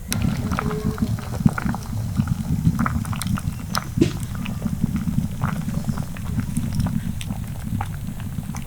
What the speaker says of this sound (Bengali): এবার এই টমেটো আর সিমগুলোকে ভালোভাবে সিদ্ধ করে নেব